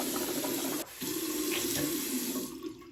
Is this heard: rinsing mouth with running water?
yes